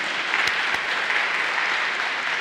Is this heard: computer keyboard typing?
no